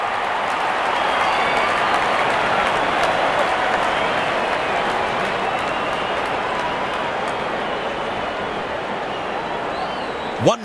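A large crowd in the cricket video game Real Cricket 22 applauds and cheers steadily for several seconds, a dense continuous wash of clapping that fades slightly toward the end.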